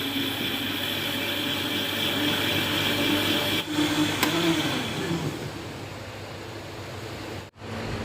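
A kitchen blender churns plums, sugar and water into juice, with a loud, steady whirring roar held nearly constant and close, briefly dipping before it resumes.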